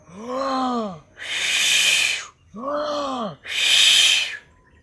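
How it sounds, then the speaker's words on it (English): Deep breaths during a breathing exercise: two cycles of a long voiced, moaning exhale followed by a loud, rushing breath, close and rhythmic with brief pauses between. "So breathing all the way in."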